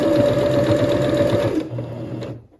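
A sewing machine labors through thick fleece fabric for a beanie hat, a loud close steady whirring drone that slows and deepens partway through before stopping.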